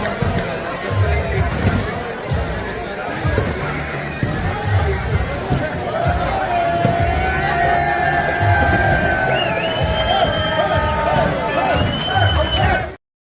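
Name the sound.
crowd at outdoor box lacrosse tournament during handshakes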